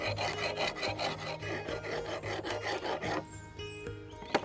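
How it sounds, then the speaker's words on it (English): Rhythmic rasping strokes of a metal file cutting across the edge of a hand-forged steel drawknife, close and steady, about a dozen back-and-forth passes, then easing off into a few lighter scrapes and a sharp tap. "file is cutting it"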